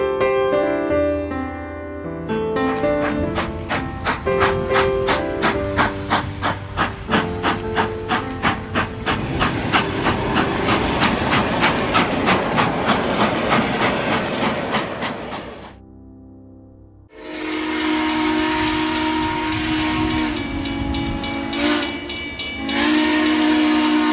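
Southern Pacific 4449 steam locomotive passes close by, with a loud train whistle in long sustained blasts over rumbling wheels and rail clatter. A short lull follows, then the whistle sounds again.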